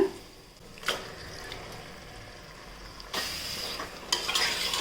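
Yogurt-and-turmeric marinated chicken goes into a hot pot for biryani, giving a soft sizzle and intermittent scraping stirs from a utensil, fairly quiet and close with no talk.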